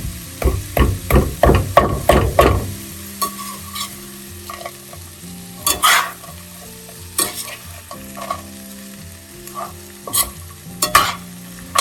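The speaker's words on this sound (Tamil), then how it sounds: "நல்லா ஃப்ரை பண்ணிட்டோன்னா நல்லா இது வந்து வெந்துருச்சுன்னா நம்மளுடைய பட்டாணி ஃப்ரை ரெடி." Peas stir-frying in a pan at home: a quick run of loud, close spoon scrapes and clanks against the pan, then sparser stirring strokes over a steady sizzle.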